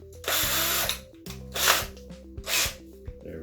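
A handheld power drill whirring in short bursts with a bit locked in the chuck during carpentry work, three quick runs separated by brief stops and ratcheting clicks, close and fairly loud.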